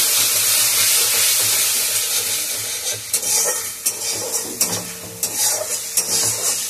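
Food sautéing in a pan after water is added, a loud steamy hiss at first that settles into sizzling, broken by repeated close stirring scrapes and clacks of a spoon against the pan.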